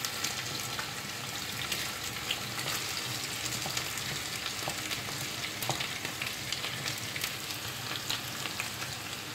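A pan of potatoes fries nearby with an even, bright sizzle and frequent small pops and crackles, steady from start to finish.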